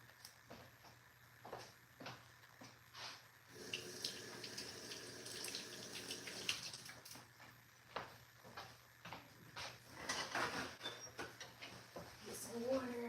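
Water runs from a kitchen tap in a steady, quiet stream, with a soft faucet hiss and splashing into a sink, interrupted by intermittent clicks and a person speaking nearby.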